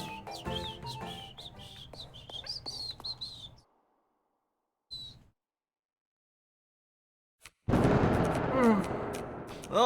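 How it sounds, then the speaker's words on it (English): Thunder in a video game bursts in loud and sudden after chirping birdsong and a near-silent pause, then keeps rumbling to the end. "Oh no, thunder."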